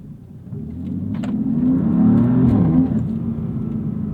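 A modified 2016 BMW M3 F80 pulls hard in second gear, its engine note rising steadily and loudly with a whirring edge before easing off slightly, with no talk over it.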